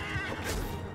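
A horse whinnies in the Bannerlord medieval battle game, one short loud neigh amid the clash and clatter of combat noise.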